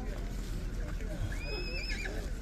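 Horse neighing amid a busy livestock market in Kazakhstan, a rising whinny standing out over steady crowd murmur and nearby talk, with faint hoof clops beneath.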